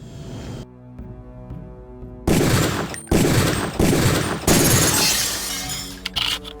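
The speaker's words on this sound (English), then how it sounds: "Release the first target and take a few shots with one of the pistols until it is destroyed." Pistol fire at a training target in the video game Deus Ex: after a quiet musical stretch, loud sharp shots break out, followed by a long crash of shattering as the target breaks apart, then a few scattered smaller hits.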